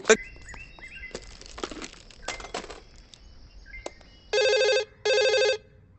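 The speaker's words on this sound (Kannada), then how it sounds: "ಫೋನ್ ರಿಂಗ್ ಆಗ್ತಾ ಇದೆ" A telephone rings in two loud bursts of an electronic bell ringtone, each lasting about half a second, near the end. Before that come scattered clicks, rustles and brief tonal chirps in a quiet indoor comedy scene.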